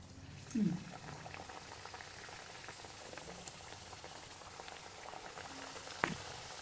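Layered jaggery karchikai frying in hot oil kept on medium heat, a faint steady bubbling hiss with a couple of soft knocks from the pan.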